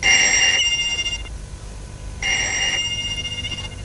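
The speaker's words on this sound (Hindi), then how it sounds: "दानी, दानी प्लीज जाके फोन सुनो" A telephone rings indoors in two bursts of bright electronic trilling separated by a short quiet gap, loud and close with no voices over it.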